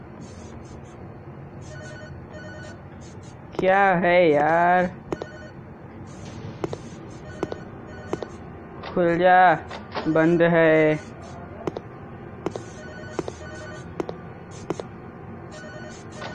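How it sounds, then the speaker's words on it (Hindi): A phone rings inside a house in the Horror House 3D horror game, two bursts of warbling electronic ringing separated by a pause, with talk heard between and around the rings. "कौन सा फोन बज रहा?"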